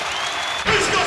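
A basketball arena crowd roars after a big dunk, a broad wash of cheering that swells sharply partway through and stays loud and close to the end.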